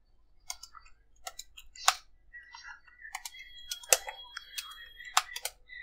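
Quick keystrokes on a computer keyboard while code is typed for a Node.js Express app, arriving in irregular bursts of close, crisp clicks with short pauses between them.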